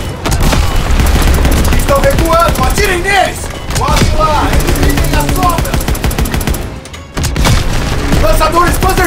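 Call of Duty WWII battle, with loud bursts of machine-gun fire and heavy booms under shouted voices in Portuguese, sustained and close, briefly dipping before resuming.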